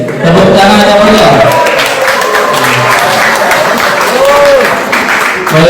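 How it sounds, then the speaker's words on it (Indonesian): Clapping from an audience at an Islamic boarding school Quran ceremony for a certificate presentation, a loud close patter of hands running under overlapping chatter and a few voices throughout. "Tepuk tangan yang mulia."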